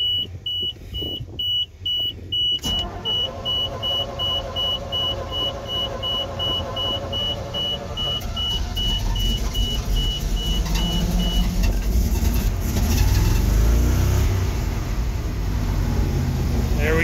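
A 1988 GMC 6000 truck engine, in need of an EGR block-off valve, runs roughly for a while and then revs louder in the final seconds, with a steady electronic beeping alarm over the first part.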